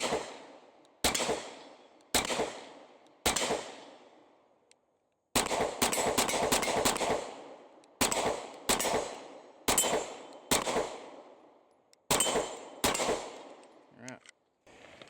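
Pistol shots from a Shield X fitted with an Osight K red dot, fired one-handed outdoors: about a dozen sharp reports, some single and some in quick strings, each ringing off with a short echo.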